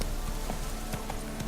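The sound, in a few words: horse Roach galloping hooves in Witcher 3 video game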